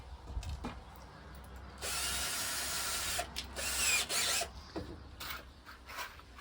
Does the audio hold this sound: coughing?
no